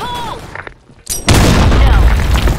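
A grenade explodes in the online shooter game Blackshot. A deep, loud boom bursts in suddenly and rumbles on after a quieter stretch, with a voice heard shortly before.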